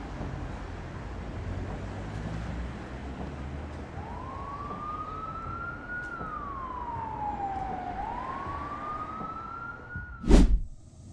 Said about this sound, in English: A police car speeds down the highway with two vehicles tailing closely